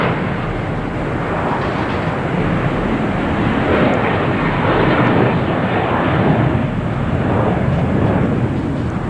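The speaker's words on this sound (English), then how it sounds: "We got American Airlines taking off." An American Airlines Boeing 737-800 takes off at Boston Logan, its engines a loud, steady broadband roar that holds strong for the whole stretch with no voices over it.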